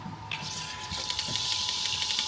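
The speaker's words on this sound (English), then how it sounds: "what I like to do is I like to recirc the water first" Water gushes steadily as shower water recirculates through a pump in an off-grid homestead's plumbing, with a constant hum underneath, running continuously at close range.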